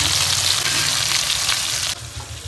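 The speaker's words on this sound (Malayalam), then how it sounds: "ആ ഇവിടെ ദേ അയില വറുത്തുകൊണ്ടിരിക്കുക" Mackerel frying in a pan in a Kerala kitchen, giving off a loud, continuous sizzle and crackle up close, with faint stirring.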